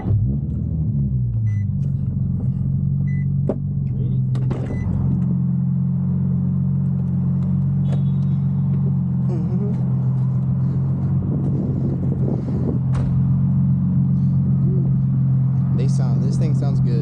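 Infiniti G35 engine idling just after a warm start, a steady, deep, close rumble that holds an even tone throughout, with a few faint clicks and knocks on top.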